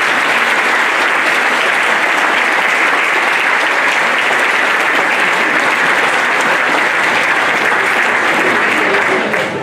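Loud, dense applause from a large crowd saluting local authorities at a summer speech, a continuous roar of many hands clapping at an even level throughout.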